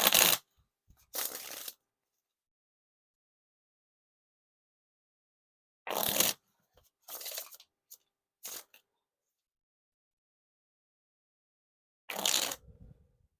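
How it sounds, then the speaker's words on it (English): Ellusionist White Arcane playing cards are riffle shuffled in several short, crisp bursts of fluttering card riffles separated by silent pauses, close and fairly quiet. "Now time for the riffle shuffle or bridge shuffle."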